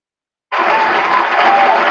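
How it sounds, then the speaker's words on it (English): Studio applause sound effect, a dense steady burst of clapping that starts abruptly after a short silence and holds at full loudness to the end, with no talk over it. "Let me get my applause ready."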